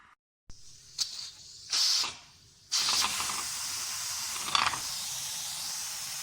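A pressure cooker on the stove with meat inside gives off short bursts of steam, then settles into a long, steady hiss that continues to the end, close and clear with no talk.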